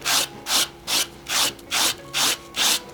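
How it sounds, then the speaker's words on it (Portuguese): A brush rounds off a carved wooden Mickey shoe with seven rhythmic, evenly spaced rasping strokes, loud and close, scratchy bursts with brief gaps between them and no voices. "Vou finalizar o arredondamento com a escova, que facilita muito."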